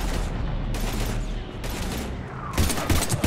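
Sustained sci-fi gunfire in Mass Effect 3 combat against husks, a dense continuous fusillade with heavier bursts near the end, loud and close.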